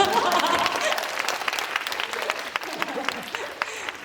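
Audience applause at a live talk event in a CGV cinema in Yeongdeungpo, a steady crowd of clapping hands that gradually thins out toward the end.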